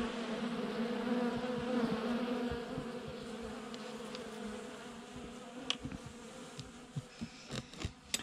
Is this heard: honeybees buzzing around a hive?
yes